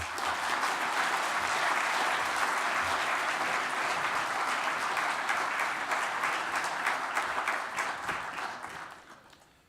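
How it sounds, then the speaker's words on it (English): Audience at a talk on Jewish conservatism breaking into sustained applause, a dense even patter of many hands that holds steady and then fades out near the end. "let's give a nice round of applause to Eric Cohen"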